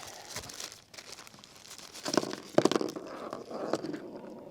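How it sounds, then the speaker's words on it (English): A plastic bag holding parts for a DEERC 302e RC truck crinkles and tears open up close, in several sharp crackling bursts with no talking. "And we'll open up this bag."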